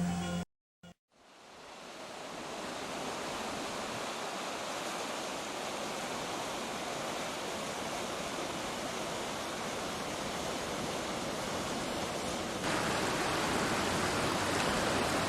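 The Aluoja cascade waterfall on the Mägara stream in Pühajõe village, Estonia, roars as a continuous broadband rush of falling water after a brief break at the start, close and constant, with no voices.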